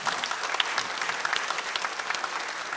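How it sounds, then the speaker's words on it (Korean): Standing church congregation applauding, a dense, even wash of many hands clapping, fairly loud and continuous throughout, with no talk over it. "박수 한번."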